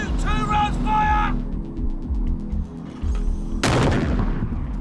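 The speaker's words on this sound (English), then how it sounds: "And if the regiment comes under attack, they can use the 81mm mortars." Loud outdoor firing of 81mm mortar rounds by soldiers at a regimental position in Afghanistan: a heavy boom and blast roar near the end, with a shouted voice and rumbling before it.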